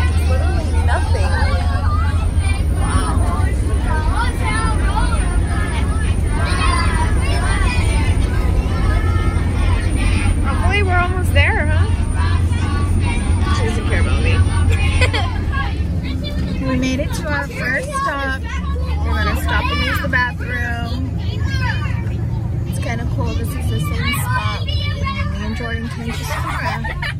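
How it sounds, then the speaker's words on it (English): Inside a school field-trip bus to Columbia, California, kids chatter and shout in a constant loud babble over the steady low engine rumble, with voices overlapping throughout. "This bus is getting so loud."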